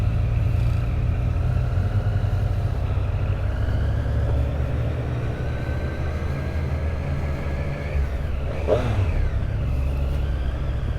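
A Triumph Street Triple 765 RS motorcycle rides along with a steady, loud engine drone and wind rush throughout, with a brief rising rev near the end.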